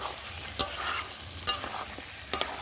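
Chicken frying with spices in a pan, with a steady quiet sizzle and three sharp scraping strokes of a spatula stirring it, close and alone.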